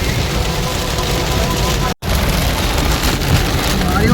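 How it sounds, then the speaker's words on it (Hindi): Torrential monsoon downpour in strong wind, a loud unbroken roar of rain, with faint speech buried beneath it. "भयंकर बारिश होती क्या बताऊँ"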